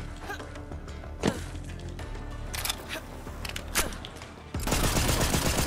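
Shotgun blasts in a video game ring out as a few sharp, loud, separated shots amid game noise, followed by a denser burst of sound at the end.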